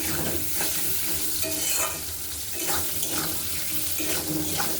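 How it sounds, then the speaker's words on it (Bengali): Potatoes frying in a covered pan with a little salt while preparing a rohu fish curry, a steady sizzle with occasional stirring scrapes heard up close throughout, no voices. "এবার আমি ঢাকা দিয়ে আলুগুলো সুন্দরভাবে ভেজে নেব"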